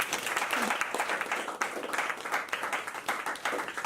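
A small group bursts into applause, brisk uneven clapping that stays fairly close and steady for several seconds, with scattered voices mixed underneath.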